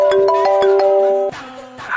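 A mobile phone rings with an incoming call, a bright synthesized melody of repeated tonal notes in a steady rhythm, loud and close, no voices.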